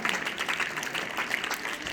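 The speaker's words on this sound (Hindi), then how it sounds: "एक बार मैं उनके लिए भी जोरदार ताली चाहूंगा।" Audience applause at a public gathering, a dense burst of many hands clapping, fairly close and sustained throughout, with no speech over it.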